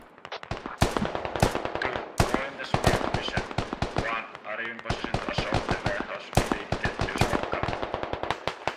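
Rapid gunfire crackles throughout a firefight in the SquadOps video game, dense bursts of close and distant shots overlapping in an uneven rhythm, with some radio-like voices mixed in underneath.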